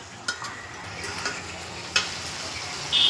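Garlic paste frying in oil in a kadhai, a soft, steady sizzle with a few faint ticks and stirring clinks, quiet and continuous, with no talking.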